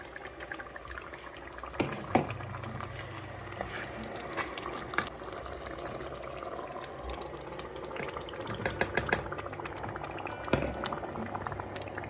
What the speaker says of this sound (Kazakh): Томатымызды жарты сағаттай қайнатамыз.